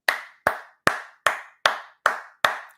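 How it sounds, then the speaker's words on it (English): Seven single hand claps, close and sharp, spaced evenly about every 0.4 seconds with a short ring after each, alone with no voices. "Hand clap everybody in the chat."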